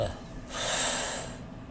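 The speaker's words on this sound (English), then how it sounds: "breathe from your belly rather than you're up here in your chest" A single deep, slow breath, swelling over about a second then fading, taken close to the microphone during a belly-breathing exercise, with speech nearby.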